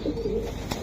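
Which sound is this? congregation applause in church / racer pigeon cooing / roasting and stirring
racer pigeon cooing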